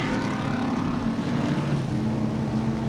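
Big bore race cars at Sebring roaring past in a pack, a dense continuous engine drone with low rumbling harmonics, loud and steady throughout.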